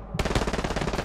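Rapid machine gun strafe in the Hell Let Loose video game: a loud, close burst of evenly spaced shots, about fifteen in one second, starting abruptly after a brief quiet moment.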